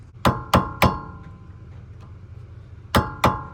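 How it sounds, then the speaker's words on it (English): Five sharp metallic hammer strikes on a flathead screwdriver drive a pin back into a 2003-2007 Honda Accord rear brake caliper assembly, three quick taps, a pause, then two more, close and clear. "knock that pin in again with your flathead"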